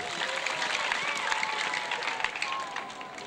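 A church conference congregation claps to welcome a guest, producing a continuous, dense wash of clapping with some voices audible within it.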